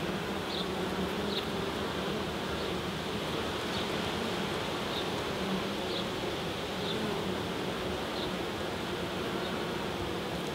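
A steady, even drone of many honeybees fills the air around an open hive in a UK apiary, continuous and moderately close, with faint rustling and no voices.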